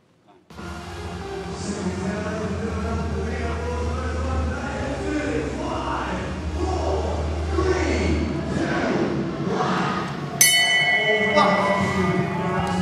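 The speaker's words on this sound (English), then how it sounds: "Wait for the bell." At a 48 kg light flyweight amateur boxing semi-final, a sharp bell clangs once to start the bout, ringing out over crowd noise and ongoing commentary near the end.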